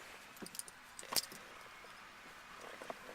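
Keys jangle faintly for a 1999 Pontiac Trans Am, a few light metallic clinks scattered across a quiet background with one brief brighter rattle near the middle.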